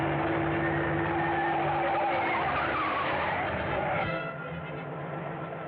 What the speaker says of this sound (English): That car in back of us seems to be sticking on our tail.